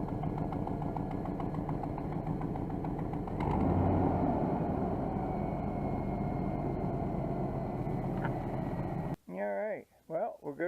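A Chevrolet engine with an exhaust leak from broken manifold bolts idles steadily up close, sounding like a rough, continuous rumble. It briefly swells louder, and a voice comes in near the end as the engine noise cuts away.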